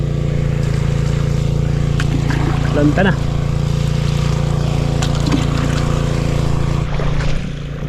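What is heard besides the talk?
engine of a water pump for irrigating a field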